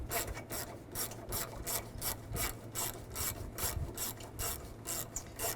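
Rapid, even ratcheting clicks from a socket wrench turning out a 10mm bolt on a 2010-2017 Chevy Equinox engine, close and steady, with short pauses between strokes.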